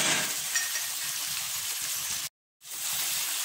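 Ivy gourd pieces fry in a pan with a steady, close hiss and crackle of sizzling oil, broken by one brief silent gap before the sizzle resumes.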